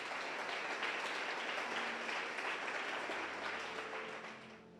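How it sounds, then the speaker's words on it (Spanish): Church congregation claps together in a full, steady round of applause that fills the room, thinning and fading toward the end without any voices on top. "Dele un aplauso al Señor."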